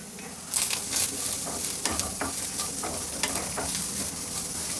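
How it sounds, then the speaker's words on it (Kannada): Black peppercorns and cumin seeds dry-roasting in a pan give a soft steady crackle with repeated scraping and stirring strokes and light seed rattles, close and fairly quiet. "ಒಂದು ಟೀ ಸ್ಪೂನಷ್ಟು ಕಾಳು ಮೆಣಸು ತೊಗೊಂಡಿದ್ನಲ್ಲ ಅದನ್ನು ಹುರಿಬೇಕು ಹಾಗೆ ಜೀರಿಗೆನು ಹುರ್ಕೊಳ್ಬೇಕು"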